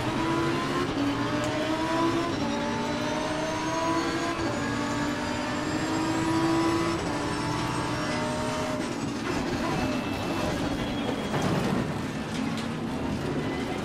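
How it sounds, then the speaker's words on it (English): Race cars in Assetto Corsa Competizione roar along the track, several engines droning and shifting pitch together at close range, steady and loud throughout with no talking. "So they've got some more car types out on the track."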